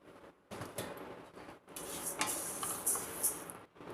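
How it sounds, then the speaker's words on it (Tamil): Coriander seeds dry-roasting in a pan at home for sambar powder, with a close, continuous dry rustling and scraping as they are stirred and shaken, and no talking. "இப்போ இதுலேயே இந்த 3 கிளாஸ் கொத்தமல்லியும் போட்டு லேசாக சூடானால் போதும்"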